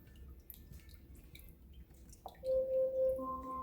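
Homemade chicken broth drips and trickles through a strainer in a kitchen, soft, faint intermittent drops near the listener, followed by a brief electronic tone.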